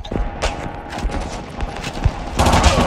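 Rapid gunfire bursts in Call of Duty Mobile's Kill Confirmed mode crackle loudly and continuously, with heavier volleys near the end and a voice briefly speaking over them.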